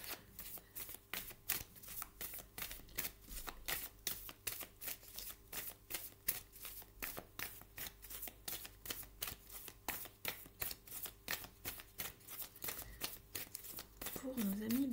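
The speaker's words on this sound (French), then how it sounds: "le brassage est un petit peu long pour vous" Tarot cards are shuffled nonstop, close up, in a fast steady riffle of crisp slaps and flutters that runs throughout, with a quiet voice talking underneath.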